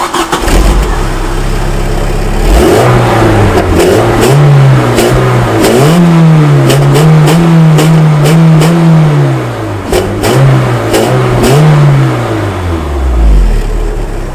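A 1992 Volkswagen Golf 3 GTI with a 2-litre, 8-valve four-cylinder engine starts up close by and is revved repeatedly, its pitch rising and falling between blips over a rough idle.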